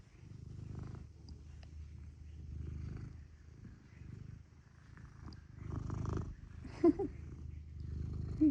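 A cat purrs steadily and close, a soft continuous rumble running through the whole stretch with a couple of brief louder bumps near the end.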